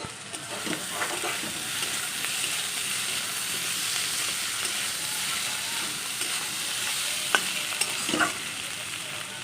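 Spice masala for egg curry fries in a pan with a steady, loud sizzle, punctuated by the scrape and clatter of stirring; no one speaks.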